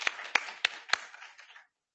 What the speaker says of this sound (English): I wanted to give one last round of applause to all the speakers who presented today